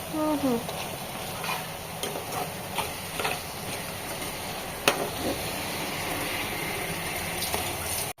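Crab curry with ginger frying and being stirred in a pan, giving a steady, close sizzle with scraping stir strokes and a brief clink near the middle; no speech.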